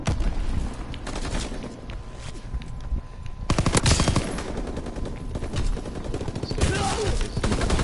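Dense, rapid gunfire from machine guns and rifles in the video game Call of Duty: World War 2, with bursts and single shots overlapping continuously throughout at close range, loud and unbroken.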